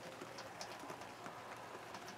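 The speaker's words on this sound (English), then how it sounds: "we're getting some rain." Light rain patters steadily over hay fields outdoors, a faint soft wash of scattered drops with no voices.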